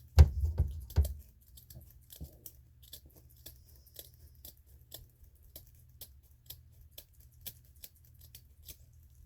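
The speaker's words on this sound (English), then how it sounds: "Trim your corners, but do not cut into your stitch line." Scissors trimming the fabric corners of a washable, reusable kitchen sponge, with a cluster of close snips at first, then sparse, faint clicks and ticks spread out over a quiet background.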